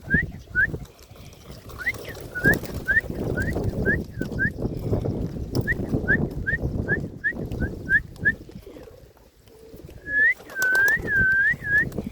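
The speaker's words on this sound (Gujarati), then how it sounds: "તો મિત્રો બાકી બધા કબૂતરા છે અહીંયા" Pigeons in a loft give a rapid series of short repeated calls, followed by longer rolling coos near the end, close and clear over a low background rumble.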